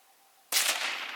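A single loud shotgun blast cracks out abruptly, close and sharp, during a bird hunt, its broadband roar decaying slowly into open air with no talk over it.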